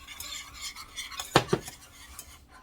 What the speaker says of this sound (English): I guess what I'm going to add right now until I whisk it around.